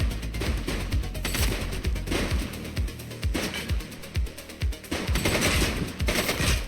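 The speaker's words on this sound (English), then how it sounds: "He's shooting!" Rapid automatic gunfire in The Precinct, a police video game, with sustained bursts and repeated sharp shots continuing loudly throughout, no talk over it.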